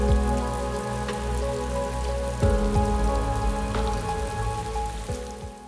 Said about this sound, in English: it rained on race day